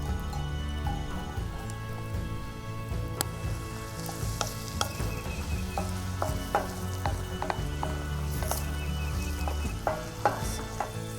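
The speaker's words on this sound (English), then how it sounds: "Next we're going to add bacon and some chopped onions." Bacon and chopped onions sizzle steadily in a carbon steel pan, a dense crackling hiss with scattered sharp pops, close and moderately quiet, with no voices.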